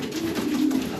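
Racing pigeons in a loft give a continuous low, throaty cooing, close and moderately loud, with no talk over it.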